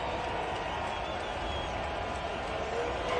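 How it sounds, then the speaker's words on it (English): A football stadium crowd at an AFC divisional playoff game rises into a steady, loud roar, a broad wash of noise that holds throughout with faint scattered clapping. "Crowd gets loud."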